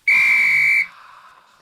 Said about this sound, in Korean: 지금 뭐 호루라기 소리가 나는데